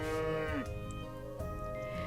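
Bubble cows in the Story of Seasons: Friends of Mineral Town farming game let out loud, drawn-out, tonal moos that overlap one another, bending in pitch, with no talking.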